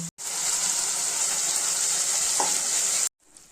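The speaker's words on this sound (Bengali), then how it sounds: "এই আলুটাকে লাল লাল করে ভাজা করে নিয়েছি এখন হচ্ছে মশলাটা দিয়ে কষিয়ে নেব" Potatoes already fried to a reddish brown sizzle steadily in a pan as spices, salt and a little sugar are stirred in, a continuous close, loud frying hiss lasting about three seconds before cutting off.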